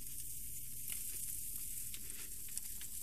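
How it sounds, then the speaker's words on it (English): Crushed garlic starting to stir fry in hot oil, a close, steady, dense sizzle with faint crackles throughout and no speech. "And you can hear that kind of beginning to stir fry up."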